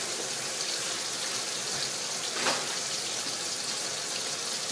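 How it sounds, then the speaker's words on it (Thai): Catfish frying in hot oil, a steady close hiss and crackle of sizzling fat filling the whole stretch, with one brief louder pop of spatter midway and no talking. "จะทอดไปจนปลาดุกกรอบเหลือง นะคะ"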